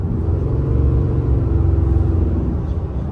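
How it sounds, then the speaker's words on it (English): A large pickup truck's engine rumbles steadily as it drives, a low, even drone with slight pulsing and no voices. "it is a really nice running and driving truck"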